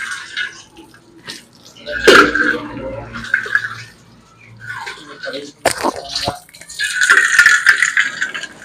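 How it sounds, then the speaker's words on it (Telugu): White and red sweet potatoes are soaked and scrubbed clean of soil in water, with splashing, sloshing and rattling bursts coming and going while a person talks over them. "కాసేపు ఆ మట్టి పోవటానికి కాసేపు నానేసి శుభ్రంగా కడుగుతున్నారు"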